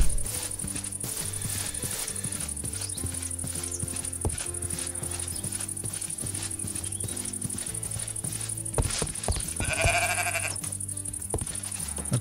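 Sheep bleating in Minecraft, a few short bleats standing out near the end over steady game music and clip-clop sounds.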